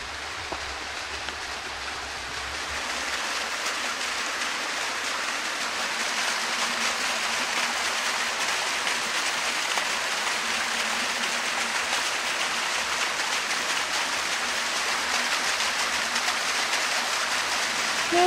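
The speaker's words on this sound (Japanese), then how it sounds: "静やかな音を響かせる筑波根の滝です" The Tsukubane waterfall beside the approach to a temple sends a steady, even rush of falling water, building slightly at the start and then holding constant with no voices.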